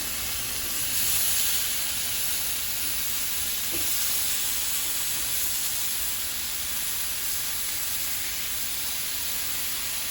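A pork chop sears in a pan after being flipped, giving a steady, fairly quiet hiss and sizzle that continues without a break and with no talking.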